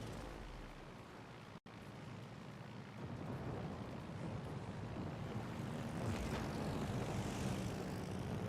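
Fighter planes in a video game, a continuous propeller-engine drone with battle rumble, a brief dropout early on, then a gradually louder, fuller engine roar with no talking.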